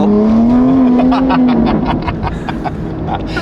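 A Jeep Grand Cherokee Trackhawk accelerates hard at full throttle, its engine note climbing as it roars from inside the cabin. The engine is loud and close throughout, with a steady rumbling drone under it.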